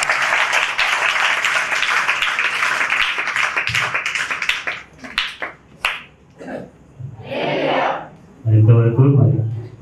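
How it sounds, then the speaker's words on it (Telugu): Church congregation at a prayer ministry gathering clapping, dense applause for the first half that thins into scattered claps, then voices of speakers take over. "అందరూ కూడా మరి చప్పట్లు కొట్టి"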